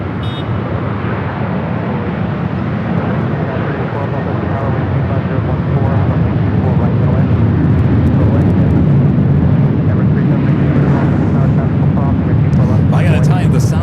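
A Southwest jet takes off from runway 24 left at LAX, its deep, steady engine roar filling the air and growing stronger partway through, with voices faintly audible beneath it.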